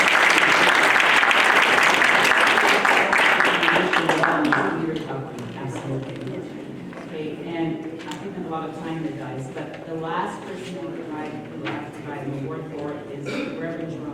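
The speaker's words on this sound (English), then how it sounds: "So can we give him a round of applause?" Round of applause from the audience at a 60-year Lincoln East Side class reunion, loud and dense for about four seconds before fading into scattered claps and overlapping conversation from the crowd.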